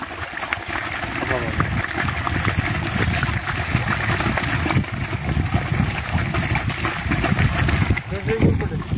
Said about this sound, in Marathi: मोटर झाली सुरू।